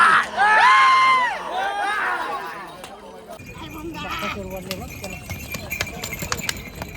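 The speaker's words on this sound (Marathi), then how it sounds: "आणि आपल्याला समोर तो बैल दिसतो, तो बंगारपाटचा सोन्या आहे." Bulls race with a bullock cart past a shouting, cheering crowd; hoofbeats and rumbling clatter build in the second half, while a loud voice talks over the start.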